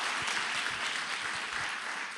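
Audience at a church service applauding, steady dense clapping throughout, loud and sustained with no pauses.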